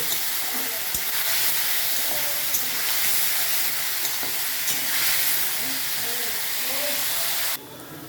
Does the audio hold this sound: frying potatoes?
yes